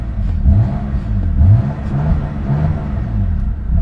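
A car engine, either a BMW M3 or a Toyota GT86, is revved hard at a launch, rising and falling in loud, close, repeated pulls with no talking.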